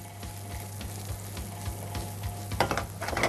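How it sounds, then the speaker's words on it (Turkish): Onion and garlic sautéing in a pan as long green sivri peppers and red kapya peppers go in: a steady close sizzle with regular stirring scrapes, and a louder burst of clatter and crackle near the end. "Soğan ve sarımsağımız yeterince sötelendi. Şimdi sivri biber ve kırmızı kapya biberimizi de ilave yapacağız."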